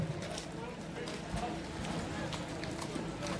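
A horse gallops during a village horse game at a celebration in Ak-Suu, Leilek district, its hoofbeats faint and rapid beneath a loud announcer's voice and crowd noise.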